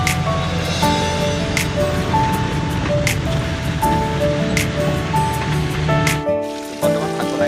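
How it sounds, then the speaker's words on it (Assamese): Mountain water pours down near Along town in a steady, loud rushing hiss that runs continuously, with a brief dip near the end. "এয়া পানী পৰি আছে"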